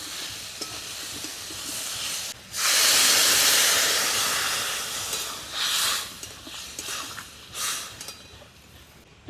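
Water poured into mustard paste in a hot pan bursts into a loud hissing sizzle that fades and swells again as it is stirred, with no voices.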